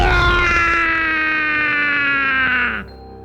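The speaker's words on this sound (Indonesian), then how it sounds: "Suara jeritan itu menggema, penuh dengan rasa sakit dan frustasi." A loud, drawn-out scream of pain from a fantasy audio drama, a single strained cry held for nearly three seconds before breaking off abruptly, with no other sound around it.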